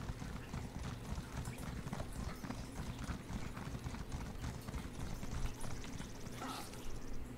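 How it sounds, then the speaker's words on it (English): Steady rhythmic clip-clop of a horse's hooves trotting along in The Elder Scrolls Online: Elsweyr, close and continuous, over a busy background of ambient game noise. "I can get on my horse again"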